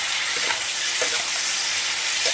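Close, steady sizzle of food frying in a pan with salt while cooking a Rita fish and cauliflower curry, with faint stirring scrapes under the bright hiss.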